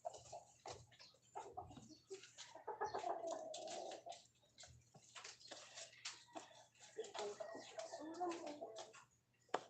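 A fighting rooster clucks and murmurs close by in a steady run of short, throaty notes, with a soft ticking and a low hum underneath, all faint.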